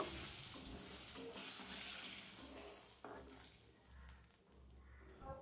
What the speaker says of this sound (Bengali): তেলটাকে আবারও গরম করে নিয়ে দিয়ে দিলাম 1/2 চামচ কালো জিরে। ফোড়নটাকে 15 থেকে 20 সেকেন্ড নাড়াচাড়া করে নেব।